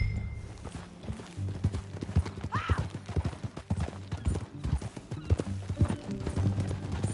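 Horse hooves clip-clop steadily on a trail in Red Dead Redemption 2, close and rhythmic, with a brief whinny partway through and quiet ambient background.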